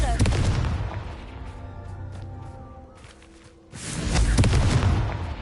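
A burst of rumbling blasts in Hogwarts Legacy as the explosive Confringo spell lands, with a loud opening boom, a brief lull with a voice, then another heavy, rolling explosion.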